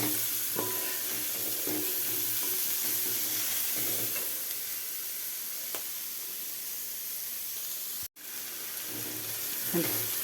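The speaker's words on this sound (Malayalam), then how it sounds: "നന്നായിട്ട് ഇളക്കി നന്നായിട്ട് വഴന്ന് വരുന്നുണ്ട്." Masala being sautéed and stirred in a pan for a tuna fish-head curry, giving a steady close sizzle with occasional scraping stirs and one brief dropout near the end.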